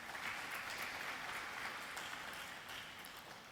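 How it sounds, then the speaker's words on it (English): Sustained audience applause at an evening talk and interview event, a dense even patter of many hands clapping that holds steady and fades slightly toward the end, with no voices over it. "Another round of applause, ladies and gentlemen."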